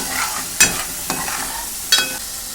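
Egg curry masala is stirred and fried in oil in a pan. A low sizzle runs under loud, close spatula scrapes that come in three distinct strokes, with no talk.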